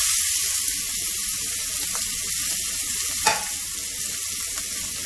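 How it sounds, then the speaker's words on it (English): Onions frying in hot oil in a pan for a spicy Thai basil tofu dish, a loud steady hiss with fine crackling throughout and a couple of brief sharp spatters, no talking. "Okay, we have heated up some oil in a hot pan. Right now we're going to add in onions."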